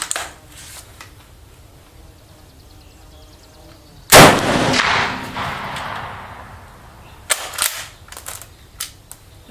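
A Berthier Mle 1892/M16 rifle fires a single loud, sharp shot about four seconds in, its boom decaying over a couple of seconds, followed by metallic clicks and handling noises.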